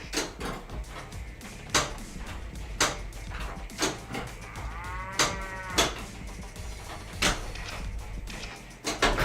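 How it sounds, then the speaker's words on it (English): A mooing cow toy being abducted on a Galactic Tank Force pinball table, one drawn-out moo rising among repeated sharp pinball clacks and knocks from the machine. "The cow being abducted on this table is one of my favorite toys."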